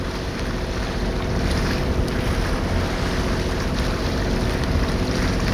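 On a sailing yacht off the Turkish coast near Kuşadası, strong wind buffets the microphone over a constant wash of waves, a loud, unbroken roar with no voices.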